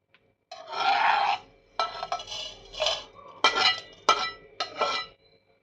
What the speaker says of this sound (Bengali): এবার এখানে সমস্ত গোটা গরম মশলাগুলো দিয়ে দেবো